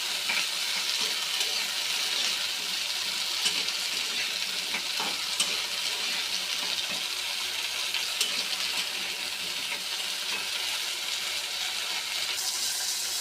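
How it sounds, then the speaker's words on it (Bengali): Borboti frying crisp in hot oil, a steady close sizzle with faint stirring clicks, no voices. "এগুলোকে আমরা ফ্রাই করে নিতে তেলের মধ্যে খুবই মুচমুচে করতে"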